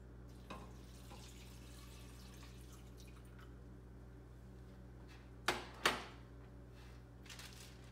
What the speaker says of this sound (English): Now I'm gonna add another jar of just water, tap water.